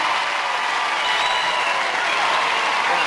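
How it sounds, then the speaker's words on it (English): Audience at a junior gladiators event giving a round of applause, loud and continuous clapping from a crowd throughout, with faint voices mixed in. "Give him a round of applause"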